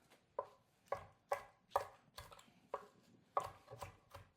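A knife chops kale on a cutting board for a vegetable Caesar salad, with about nine crisp, close strokes in a loose, steady rhythm and quiet gaps between them.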